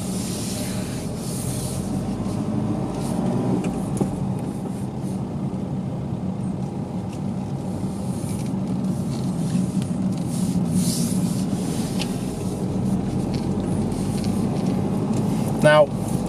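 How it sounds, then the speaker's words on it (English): A car coasting with the clutch pressed and no brake applied gives a steady road and engine rumble with broadband tyre noise, while a driving instructor talks over it throughout. "press the clutch down and no brake, and the car's building up speed"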